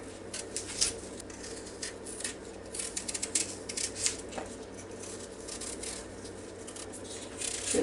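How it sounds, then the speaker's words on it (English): Apples being peeled and sliced by hand: quiet, irregular scraping and soft cutting taps with occasional sharper clicks, close and faint against a low background hum. "So we're just going to peel these and slice them up."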